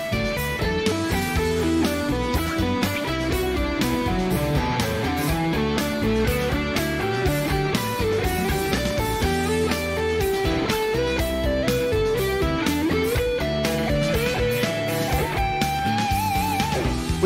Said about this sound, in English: We're going to skip a step and go straight to some pentatonic scales